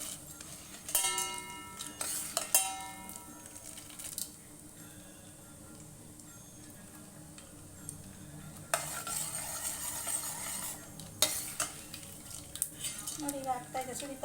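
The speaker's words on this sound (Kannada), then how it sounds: "ಇದು ಸಾಸಿವೆ ಸಿಡಿದಾಗ್ಲೇ ಇದು ಫ್ಲೇವರ್ ಚೆನ್ನಾಗಿ ಬರೋದು" Mustard seeds crackling and spluttering in hot oil while upma is prepared, sharp pops and sputters over a frying hiss with a spoon scraping the pan, near and moderately loud, with a quieter stretch in the middle.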